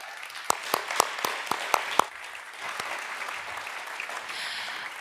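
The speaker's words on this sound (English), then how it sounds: "Give him a warm applause." An audience at a circular-tech talk gives a short burst of applause: a few sharp, close claps stand out over a softer patter, which fades out after a couple of seconds into faint room noise.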